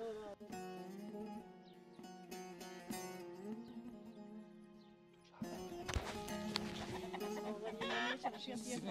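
Chickens cluck and call nearby amid farmyard noise, with people talking over them and a louder burst of activity toward the end.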